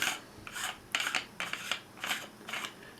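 Rhythmic rasping scrapes sound as the threaded top of a VSSL compass canister is twisted off, several short close-up grinding turns in steady succession with no talk.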